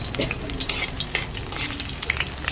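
Garlic frying in hot oil while cooking a Filipino beef caldereta, with a steady close sizzle and occasional scraping stir strokes, no talking.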